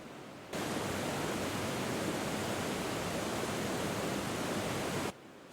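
A waterfall's steady, dense rush in the video game Ace Attorney: Spirit of Justice fades in abruptly, holds loud and unbroken for about five seconds, then cuts off.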